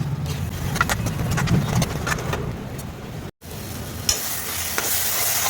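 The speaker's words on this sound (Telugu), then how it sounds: "ఇలా తిప్పుకుంటూ ఉండాలి చిన్నగా సన్న మంట మీద తీసుకుంటూ ఉండాలి" Fenugreek leaves and onion curry stir-fry on a low flame, with a continuous soft sizzle and repeated scraping stir strokes, close and fairly loud, broken by a brief dropout, no speech.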